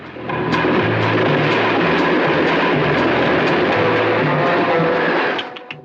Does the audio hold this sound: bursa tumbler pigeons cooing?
no